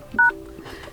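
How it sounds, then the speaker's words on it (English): Motorola ThinkPhone dialer keypad gives a single short, clear beep as a code is entered, heard close and isolated against quiet background. "open your phone dialer and then enter a secret code"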